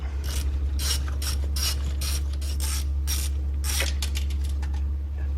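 A ratchet clicks in quick bursts while backing out a T30 bolt on the intake valve control solenoid of a 2011-2013 Hyundai Sonata Hybrid, close up over a steady low hum.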